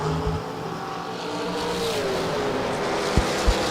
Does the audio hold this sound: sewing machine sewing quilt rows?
no